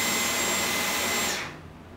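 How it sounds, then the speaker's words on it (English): A Dyson V12 Detect Slim cordless vacuum cleaner runs with a loud, steady high-pitched whine and airy roar, then winds down abruptly near the end as it is switched off. "This cordless vacuum is noisy, ranging between 70 and 80 decibels."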